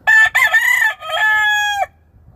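A three-year-old half Mule Train gamecock rooster crows once, loud and close: a broken opening then a long sustained call that cuts off sharply, followed by quiet.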